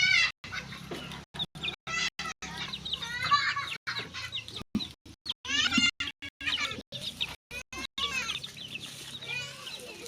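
Chickens with small chicks clucking and chirping nearby, a busy run of repeated clucks and peeps, with brief gaps of silence between bursts.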